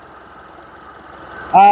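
A freshly overhauled Mitsubishi Pajero 4D56 diesel engine idles with a steady, fairly quiet hum that holds evenly, until a voice begins speaking loudly over it at the end.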